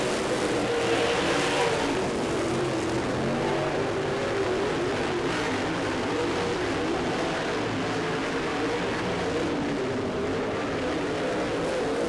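Race cars lap a dirt track in the closing laps of a feature, their engines a steady, loud, continuous roaring drone that never lets up, with no talking.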